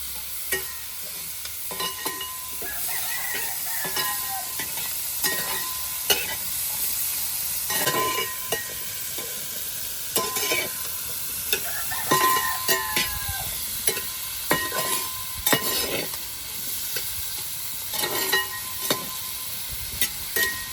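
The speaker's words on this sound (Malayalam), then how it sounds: "തക്കാളിയും ചെറിയുള്ളി എല്ലാം ഒന്നിച്ചിട്ട് തന്നെ വാട്ടുന്നല്ലേ അമ്മ" Tomatoes and shallots sizzle together in hot oil for a mutton curry, a steady frying hiss broken by repeated scraping stirs of a spoon against the pan, with no talking.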